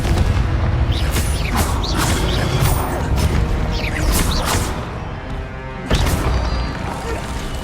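Repeated Confringo fire-spell blasts in the Hogwarts Legacy video game, a series of sharp booming bursts and crashes over a dense, busy combat soundscape, loud and close throughout.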